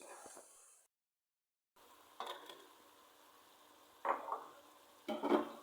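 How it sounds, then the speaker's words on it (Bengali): Potatoes stir-fried in spice masala for egg biryani give off a faint, steady sizzle that briefly cuts to silence, then returns with a few louder scrapes of stirring in the pan. "এখন আলুগুলো দিয়ে আরও কিছুক্ষণ কষিয়ে নিব"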